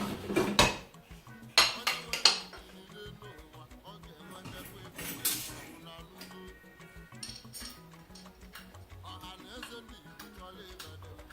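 Stainless steel pots and lids are stacked and nested, giving sharp metallic clanks and clinks, with a cluster of loud knocks early on and then lighter scraping, tapping and rattling throughout.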